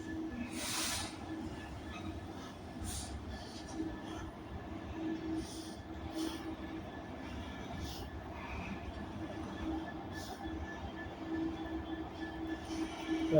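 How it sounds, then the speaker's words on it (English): A Freightliner Class 66 diesel locomotive hauls a train past at Carlisle on the West Coast Main Line, a steady rumbling roll of wagons with faint wheel squeals and hiss, moderately distant and continuous. "Freightliner Class 66. 66515."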